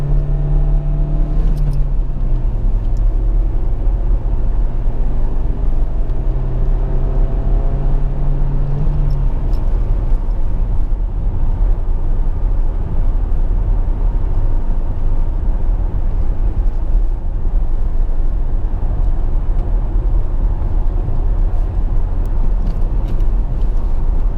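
A Peugeot 308 car drives steadily in second gear on a UK road with light throttle, its low engine drone continuous and close, a rising tone shift early on, then settling into an even rumble with road noise.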